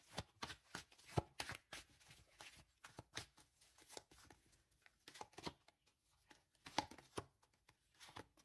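A deck of cards is shuffled over and over, giving soft rapid riffles and quick bursts in an irregular rhythm, close by but fairly quiet, with no talking.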